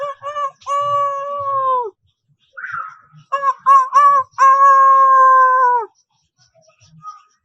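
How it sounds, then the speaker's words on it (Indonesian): A rooster crows loudly twice nearby, each call a few quick notes ending in a long drawn-out cry, with silence in between. "terdengar suara ayam jantan berkokok"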